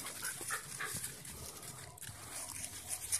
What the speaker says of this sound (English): Pile of puppies.